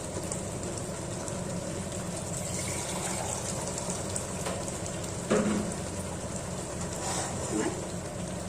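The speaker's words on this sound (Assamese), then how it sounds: "গৰম পানী দিছোঁ মই।" Hot water poured into a pan of palak paneer curry, a steady rushing splash with a brief louder gush partway through, heard alone and close.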